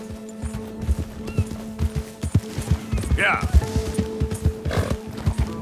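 Horse hooves clip-clopping in the video game Red Dead Redemption 2, a steady rhythmic trot close by, with a brief horse whinny and a voice talking over it.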